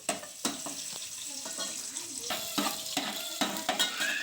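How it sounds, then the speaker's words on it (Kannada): Green chillies and capsicum frying in a home kitchen pan, a steady sizzle with repeated sharp scrapes and clinks of a spatula stirring against the metal, close and fairly loud. "ಕ್ಯಾಪ್ಸಿಕಮ್ ನೀಟಾಗಿ ಫ್ರೈ ಮಾಡ್ಕೋಬೇಕು."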